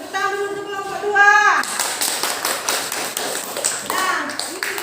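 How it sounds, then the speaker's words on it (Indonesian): Fourth-grade pupils in a primary school classroom applaud a group of classmates, a burst of many small hands clapping that starts after a teacher's voice and continues steadily, with children's voices rising near the end. "Tepuk tangan dulu untuk kelompok 2."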